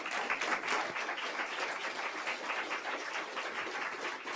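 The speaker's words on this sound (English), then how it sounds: "Now would be the appropriate time to applaud these fine candidates." An audience at a 2019 candidate forum applauds, with dense, steady clapping that holds for several seconds at a fairly even level.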